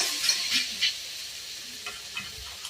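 Rohu fish curry with Malabar spinach and potato, with chili powder just added, frying in a pan while it is stirred: soft sizzling with a few scraping stir strokes, close but fairly quiet.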